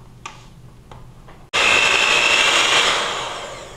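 An electric mixer whirs on at full power, blending heaping spoonfuls of powdered sugar into quinoa apple cake batter, a loud steady drone after a few faint clicks, easing slightly toward the end.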